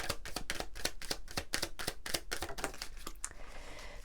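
Oracle cards are shuffled in a quick, even series of crisp flicking taps, about a dozen in a row, followed by a softer papery rustle as a card is drawn.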